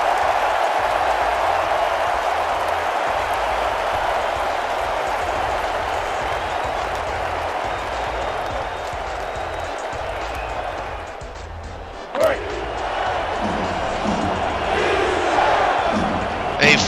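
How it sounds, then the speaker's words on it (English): A full house crowd roars and cheers in a domed stadium at a Cleveland at Orlando football game, a dense sustained wall of noise that dips briefly before a sharp slam-like hit and a renewed surge. "A full house crowd"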